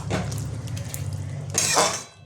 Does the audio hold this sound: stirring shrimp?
yes